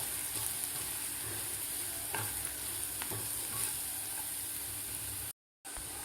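Red chili powder and chopped coriander sautéing in a pan, a soft continuous sizzle with faint scraping strokes of the stirring spoon, quiet and close, with a brief dropout near the end.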